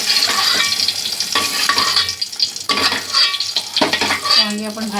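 Fried brinjals are stirred in a pan and lifted out, with loud scraping and clattering of a spatula against the metal over a crackling oil sizzle, in close irregular bursts; no one speaks.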